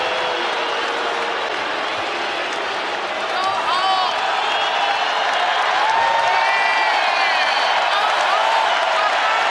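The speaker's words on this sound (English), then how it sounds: "Meanwhile, the crowd is just enjoying themselves," A basketball arena crowd at an NBA game against the Toronto Raptors roars in a steady, dense wash of cheering and applause, with occasional whistles and whoops rising above it throughout.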